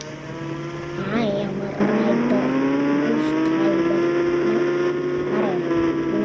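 A motorbike engine revs and climbs in pitch in the Indian Bike Driving 3D video game, a whining tone that rises, levels off and dips again, with a sharp jump in loudness near two seconds.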